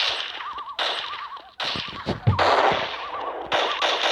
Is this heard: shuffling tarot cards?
no